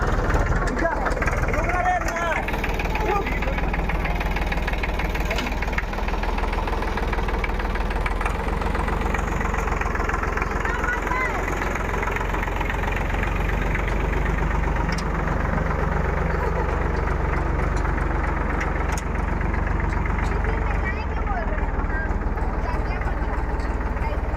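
A farm tractor engine running in a Chhattisgarh village, a loud, continuous, close rumble with a knocking idle that holds steady throughout, while voices talk over it.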